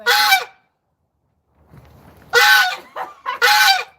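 Loud, close honking from an agitated goose comes in a single blast, then a pause with faint rustling, then a quick cluster of harsh, repeated honks.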